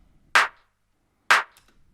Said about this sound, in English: I've got a few different layers here for the clap 4, which is more than normal, but here's how they sound.